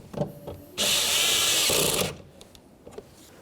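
A power driver spins a mounting bolt snug on a 2004-2015 Nissan Titan front door panel, one steady whirring burst of a bit over a second, close and loud, with faint handling clicks before and after.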